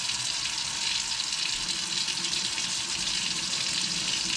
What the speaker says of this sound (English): So I've got the water running.